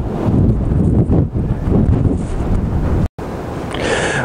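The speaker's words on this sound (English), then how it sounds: "But you can see how windy it is." Loud gusting wind roars against the microphone throughout while pike fishing in the early morning, with a brief dropout before the blustery rumble resumes.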